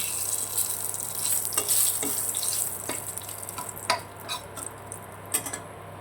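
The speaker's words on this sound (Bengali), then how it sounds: "এর মধ্যেই আমি একটা শুকনো লঙ্কা আর তেজপাতা ফোড়ন দিচ্ছি।" Dried red chilli and bay leaf tempering in hot oil give a steady, bright sizzle, with a few sharp clicks and scrapes of a spoon against the pan scattered through it. No one speaks.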